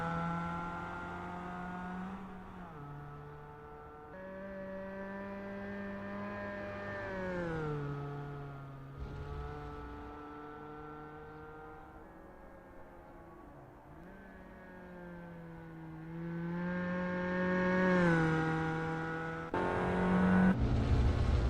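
A Peugeot 205 GTI 1.9 races through a practice session in Assetto Corsa on the Bannochbrae Reverse track, its engine droning steadily and dipping at each gear change, then rising as it revs harder near the end.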